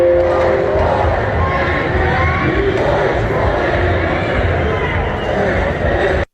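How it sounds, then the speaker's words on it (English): A large protest crowd in Portland keeps up a loud, continuous roar of massed voices with a chant running underneath, dense and unbroken for several seconds before cutting off. "You can kind of hear that overall chant going on in the"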